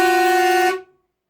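Horns on an Austin Westminster 6110 give one loud, steady, close blast of just under a second that cuts off cleanly into silence.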